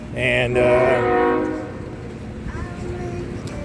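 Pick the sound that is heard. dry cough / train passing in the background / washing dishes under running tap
train passing in the background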